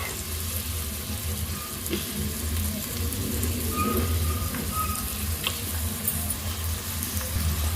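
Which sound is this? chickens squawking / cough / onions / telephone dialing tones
onions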